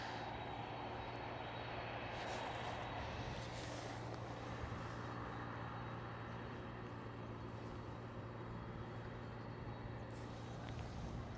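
EasyJet airliner at Amsterdam Schiphol, a faint, distant and steady engine drone with a constant low hum throughout.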